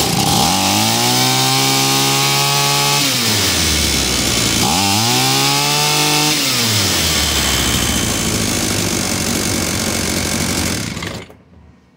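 A BX Blue Max gasoline pole saw, model 53542, fitted with a new carburetor fuel line kit, runs loud and close, revving up twice before holding a steady high-pitched full-throttle buzz that cuts off abruptly near the end.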